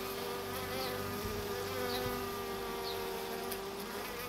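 Honeybees buzzing in a dense, steady swarm while attacking a hornet, a continuous close drone with faint individual wingbeats, no voices.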